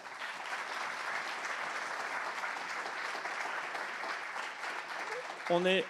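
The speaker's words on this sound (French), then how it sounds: "je pense qu'on peut déjà les applaudir pour être venus" A conference audience at a Devfest opening in Strasbourg gives the speakers a sustained round of applause, dense and even across the room, ending with a brief voice or tone at the very end.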